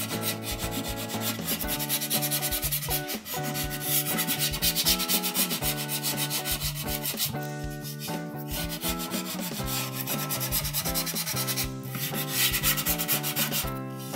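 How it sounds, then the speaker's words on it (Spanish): Sandpaper rubs over paper folds on a round cardboard box in quick, rhythmic, close scratching strokes that continue steadily throughout, with a steady tonal hum underneath. "vamos a checar si nos quedaron algunos pliegues que sobresalgan demasiado, los podemos también lijar."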